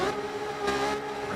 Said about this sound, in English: Revs go up.